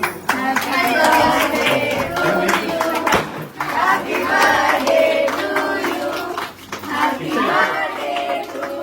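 Handclaps and cheering from a small group of family and friends at a home birthday surprise party, loud and close, mixed with overlapping chatter and children's voices.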